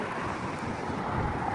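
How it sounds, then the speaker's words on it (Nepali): Cool wind blows steadily against the microphone, making a continuous, fairly loud rushing rumble with no voices. "कस्तो मिठो हावा चलेको क्या है आज।"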